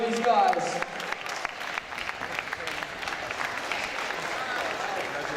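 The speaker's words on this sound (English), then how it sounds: "One more massive round of applause for both these guys." Crowd applause at a combat sports final for two 90kg fighters, a broad sustained clapping that starts loudest and settles into a steady roar, with a few sharp claps standing out.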